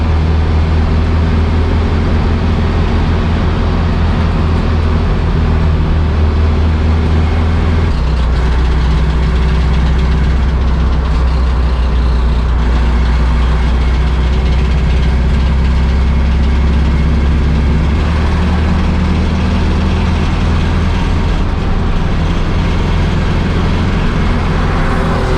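Breadvan classic race car engine idling steadily, a loud, continuous low rumble with a slight shift in pitch partway through and no voices.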